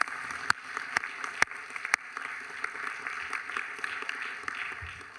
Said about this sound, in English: So could we give them a round of applause